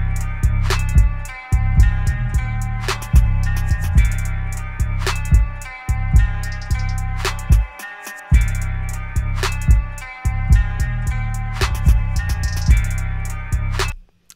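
A mixed hip-hop track without vocals plays loud and steady, with a clean, heavy low end, punchy drum hits and sustained melodic layers, briefly dropping out a couple of times.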